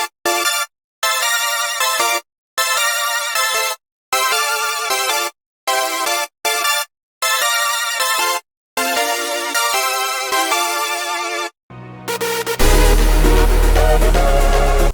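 Layered hardstyle synth lead with slight dissonance, bright buzzy stabs chopped into a stuttering rhythm with short silent gaps, then a sudden full loud burst with heavy bass at the end, heard alone.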